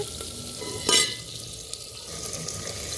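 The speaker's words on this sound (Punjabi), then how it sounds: "ਪਿਆਜ਼ਾਂ ਨੂੰ ਆਪਾਂ ਚੰਗੇ ਤਰੀਕੇ ਦੇ ਨਾਲ ਥੋੜਾ ਜਿਹਾ ਚਿਰ ਭੁੰਨਾਂਗੇ" Sliced onions fry in a pan to light brown for a cumin pumpkin curry, making a soft, even sizzle with one sharp stirring clatter near the start.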